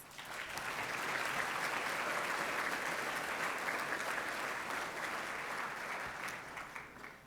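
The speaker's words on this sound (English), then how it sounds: "let's give all of our sponsors and wonderful helpers a round of applause" A Chamber of Commerce audience at a State of the Town event claps for sponsors and helpers, sustained even applause swelling quickly and holding for several seconds before tapering.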